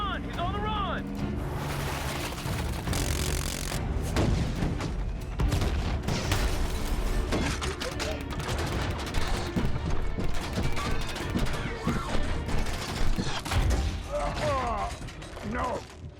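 Missile launches and gunfire in a Transformers battle scene, a dense, loud, continuous barrage of blasts, mechanical clanks and whooshes layered with music and shouting voices throughout.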